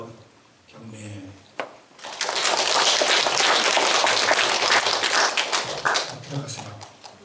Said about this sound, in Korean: 경례 박수예요.